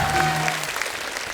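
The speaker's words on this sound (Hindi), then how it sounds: "इनके लिए जोरदार ताली।" Studio audience applause on a Hindi TV comedy show, a brief burst of clapping that fades quickly.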